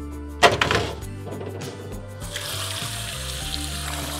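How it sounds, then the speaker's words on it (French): Water splashes and pours steadily into a dish of rinsed potatoes being prepared for a chorizo and tomato potato gratin, beginning with a brief louder gush and continuing as an even, close rush without talk. "Et on va les recouvrir d'eau."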